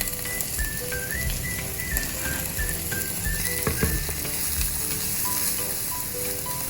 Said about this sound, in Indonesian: ini kita masak aja sampai mirepoixnya itu browning